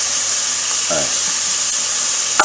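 Curry turkey sizzles in a pan while being stirred, a loud steady hiss with a brief scrape near the middle and a sharp clink at the end.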